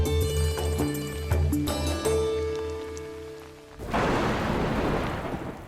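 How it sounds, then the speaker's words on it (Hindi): Steady tonal sounds give way to a sudden, dense downpour of rain with a broad hissing roar, loud and continuous for the final couple of seconds; no distinct thunderclap stands out. "बारिश की रिमझिम फुहारों को ही लीजिए, जब सही समय पर मिट्टी पर गिरें"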